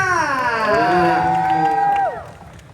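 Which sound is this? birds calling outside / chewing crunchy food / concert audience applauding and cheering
concert audience applauding and cheering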